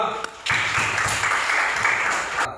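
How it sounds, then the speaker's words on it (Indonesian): A classroom of students applauding a student group, a sudden burst of clapping that starts after a short pause and continues fairly loud and uneven for about two seconds before stopping abruptly. "tepuk tangan buat kelompok 2"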